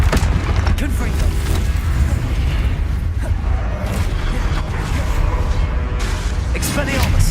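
Fiery Confringo explosion spells in the game Hogwarts Legacy: dense, loud booms and bursts keep going throughout, with a voice speaking over the constant blasting.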